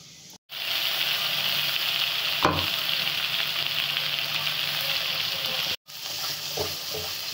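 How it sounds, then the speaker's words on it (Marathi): Red chili powder dropped into hot oil for misal rassa, a loud steady sizzle and fry with brief stirring clinks, cutting out briefly twice. "आपलं तेल तापलेलं आहे. आता आपण ह्याच्यामध्ये लाल तिखट टाकू."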